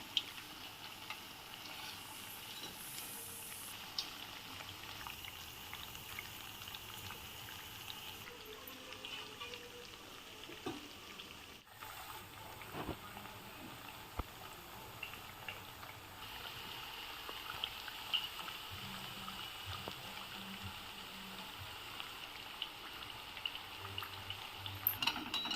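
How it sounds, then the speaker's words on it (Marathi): Chakli frying in hot oil, a steady low bubbling hiss that runs evenly throughout with no voices, with sporadic faint ticks and pops over the sizzle. "लालसर होईपर्यंत चकली आपल्याला तळून घ्यायची आहे"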